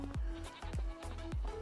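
Sheep and goats in a farming video game bleat three times in quick succession, close and fairly loud, each call a short wavering cry with no talking over it.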